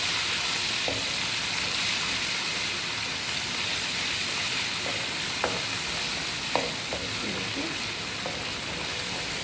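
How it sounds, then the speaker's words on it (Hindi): Ginger and garlic frying in a pan for beef kofta curry, a steady broadband sizzle running throughout, with occasional faint clinks of stirring. "थोड़ा सा इसको फ्राई करेंगे, इसका कलर चेंज करेंगे"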